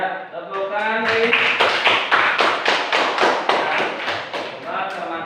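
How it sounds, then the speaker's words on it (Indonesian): Classroom applause from a group of students, a dense run of rapid hand claps lasting several seconds, close and fairly loud, with a voice talking briefly at the start and end. "Ya, tepuk tangan nih."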